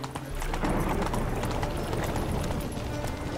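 Roach, a horse in the video game Witcher 3, trotting with steady rhythmic clip-clop hooves, close and continuous with no talk.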